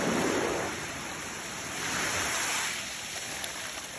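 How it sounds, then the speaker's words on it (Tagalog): Big ocean waves rolling onto a beach at Bauan, Batangas, a broad continuous rush of surf with a swelling crest near the middle, steady and fairly close, no voices. "malaki ang alon dito kaysa sa ano? Sa Bicol"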